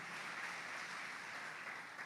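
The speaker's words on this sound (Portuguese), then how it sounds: "Aplauda o Senhor" A church congregation applauds, heard as a sustained, even wash of many hands clapping, fairly faint and distant, with no speech over it.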